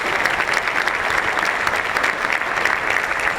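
Steady applause from an audience at a Columbia Association diversity event, a dense, continuous wash of many hands clapping at even loudness throughout, with no voices standing out.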